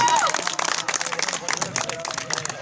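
Audience applause for a speaker at a school maths race event, a steady wash of clapping from a crowd with chatter and a voice mixed in throughout.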